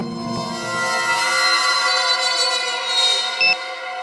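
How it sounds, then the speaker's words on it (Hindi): An alarm clock ringing as a loud, steady electronic buzzing tone that sustains through the whole clip with a rich stack of harmonics and a short blip near the end. "कहीं धीमी आवाज में तो नहीं बजा अलार्म?"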